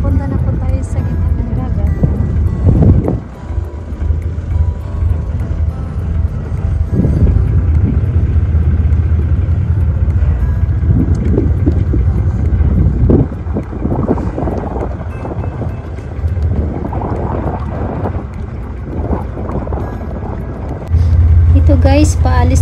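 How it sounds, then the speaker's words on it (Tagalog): Strong wind buffets the microphone aboard a moving fishing boat setting out near Nagasaki, Japan, with a steady low engine and water rumble underneath and a voice talking over it. "naririnig naman po na yung hangin po ay malakas"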